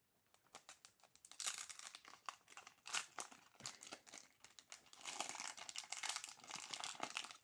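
Crinkly foil wrapper of a trading card pack being torn and opened up close, bursts of crackling and rustling, no talking.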